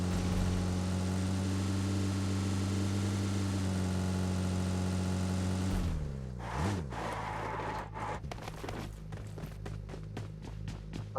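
Vehicle engine idling in the video game PUBG, a steady low hum that shifts pitch and turns rougher and more uneven partway through, with no talking.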